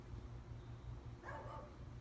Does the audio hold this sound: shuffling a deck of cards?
no